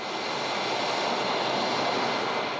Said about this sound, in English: Another cargo plane full of wounded lands at Andrews Air Force Base outside of Washington, D.C.